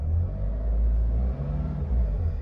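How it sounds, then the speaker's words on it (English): A 2017 Hyundai iLoad engine gets a quick rev, a deep, steady rumble that swells briefly and settles back toward idle, close by with no voices. "Give the car a quick rev."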